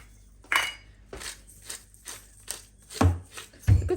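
Frozen vegetables go into an Instant Pot in several separate bursts, each a clattering rattle of hard pieces striking the metal pot. Quiet gaps fall between the pours, and no one speaks.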